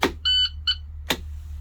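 A bus parking brake sounds two electronic warning beeps, one long and one short, close up, followed by a soft thump and a low steady engine hum.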